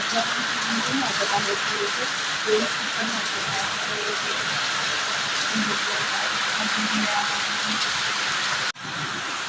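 Heavy morning downpour falling outside, a steady broadband hiss of rain running loud and continuous, with faint voices and scattered background sounds mixed in, then a brief break before the rain noise resumes.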